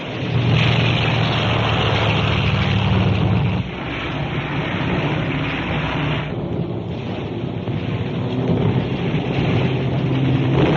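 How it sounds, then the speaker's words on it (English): A catapult-launched bomber takes off from a carrier in a 1944 war film, a loud continuous roar of propeller engines and rushing wind that holds steady, dips briefly, then surges again. "Catapult plane being launched."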